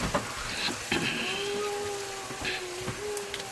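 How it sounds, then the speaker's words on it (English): Onions sizzling gently in a pan, a soft steady crackle with occasional taps and stirring clatter, fairly quiet and close, with no voices. "so I'm gonna just fry this"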